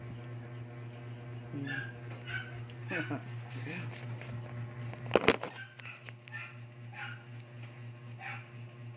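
A dog gives a few short yips and whimpers over a steady low hum, with a sharp louder burst partway through.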